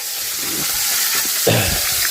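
Vegetables are sautéed with onion in a pan, a loud, close, continuous sizzle with a few stirring scrapes partway through and no talking.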